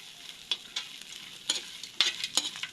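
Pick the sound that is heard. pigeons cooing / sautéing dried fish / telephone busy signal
sautéing dried fish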